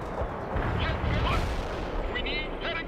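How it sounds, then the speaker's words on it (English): A grenade launcher fires in the video game World in Conflict amid a noisy battle, with thumping shots and explosions over constant rumbling combat, and faint voices mixed in. "Firing grenade launcher!"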